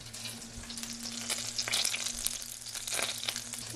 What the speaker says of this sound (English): my butter is foaming and the pan is hot